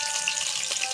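Onions dropped into hot oil in a wok, giving a bright, even hiss of frying that stays loud and close for a moment.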